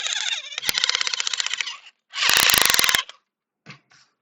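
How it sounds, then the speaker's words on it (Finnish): A toy drill whirring in short bursts, a buzzing motor with a rapid ratcheting clatter, two long runs separated by a pause, then a couple of brief taps, loud and close. "Ensin mä poraan mun näytön. Semmosella leluporalla."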